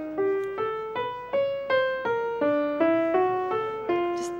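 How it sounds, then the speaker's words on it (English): A Schoenberg-style twelve-tone row played as a single melodic line of about a dozen distinct, disjunct pitched notes, each struck clearly and decaying, with a bright piano-like timbre and no talking. "A Schoenberg tone row would sound something like this."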